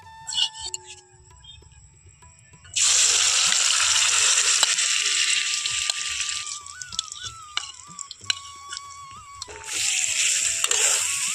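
Amla (Indian gooseberry) drops into hot ghee in a kadai. After a quiet opening, a sudden loud sizzle bursts up and holds, eases briefly, then swells again near the end.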